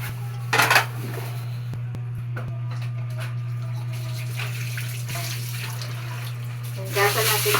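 Food is washed under a running kitchen tap while making sinigang, with a steady hum of flowing water, clinks of dishes and cutlery, and a few louder splashes near the start and end.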